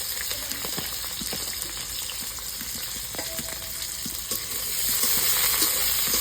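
Chopped onions and chillies fry in hot oil in a wok, giving a steady, close sizzle that grows slightly louder toward the end, with no talking.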